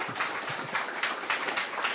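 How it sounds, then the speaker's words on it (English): A conference audience applauds a speaker taking the stage for a talk, steady dense clapping from a hall, moderately loud and continuous throughout. "Give him a warm applause."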